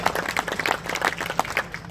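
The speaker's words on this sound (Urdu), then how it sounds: "ان کے لیے بھی ایک دفعہ تالیاں بجائیں" Audience applause at an expo event in Swat, Pakistan: a steady patter of many hands clapping, moderately loud and continuous, with faint speech mixed in.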